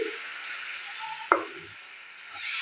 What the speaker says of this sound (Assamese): এইদৰে লৰাই দিম।